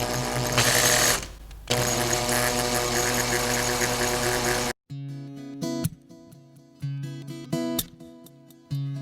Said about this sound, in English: So let the drill bit do the work for you.